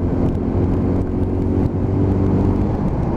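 A Lexmoto LXR 125 motorcycle engine drones steadily while riding, with small rev blips on the downshift under a constant loud hum and wind, and no voices.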